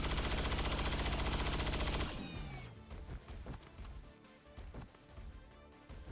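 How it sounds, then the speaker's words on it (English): Heavy automatic gunfire from XCOM: Long War of the Chosen, a loud sustained burst that cuts off after about two seconds, followed by sharp scattered impacts and smaller shots. "I think we just shoot this guy."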